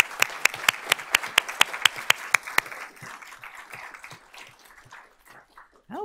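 A school board of trustees meeting audience claps in a steady, evenly spaced rhythm, then breaks into looser, scattered applause that thins out. A brief whining sound is heard near the end.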